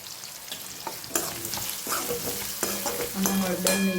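Potatoes being stirred and fried in a pan on a gas stove, with steady sizzling and repeated scraping strokes of a spoon against the pan, close and fairly loud, no talking.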